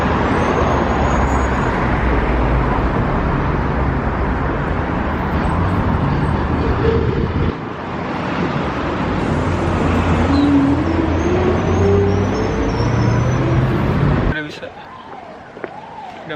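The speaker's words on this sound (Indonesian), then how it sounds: "Ini di depan universitas, halte bus dan lain sebagainya." Steady road traffic rumbles past a bus stop in front of Tomsk State University, continuous and fairly loud with passing vehicles, dropping away near the end as a voice speaks briefly.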